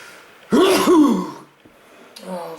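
A single loud, close sneeze bursts out, followed after a pause by a softer voiced sound.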